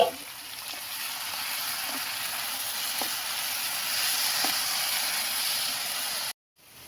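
Washed mulberry leaves dropped into hot coconut oil give a steady, close sizzling hiss that holds evenly for several seconds, then cuts out briefly near the end.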